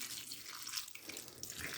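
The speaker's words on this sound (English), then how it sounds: "I'm just going to pour this in slowly." Chicken cacciatore broth pours slowly into a canning jar, a continuous close splashing trickle of liquid with no talking.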